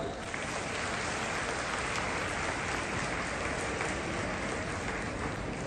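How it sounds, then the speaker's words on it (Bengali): A packed hall audience at a city school students' awards event applauds mothers, a dense and continuous wash of clapping at steady loudness throughout, close and without any voices over it. "আসুন মাদের জন্য একটা করতালি দেয়।"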